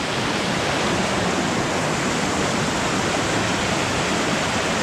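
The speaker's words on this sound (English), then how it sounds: "This is just a little bit past the second waterfall." Loud, unbroken rush of a waterfall and creek on Vancouver Island, heard close up as a dense, steady roar with no voices.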